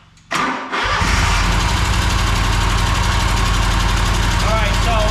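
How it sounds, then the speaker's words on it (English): An engine fires up and settles into a steady, loud idle with a fault giving abnormal valve noise, running close by; a voice is heard in the background. "that's not a normal noise on this engine"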